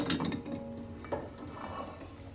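A metal plate used as a lid is lifted off a cooking pot of prawn curry with drumsticks on a medium gas flame, giving a brief clink and scrape of metal, followed by a steady simmering hiss with no talk.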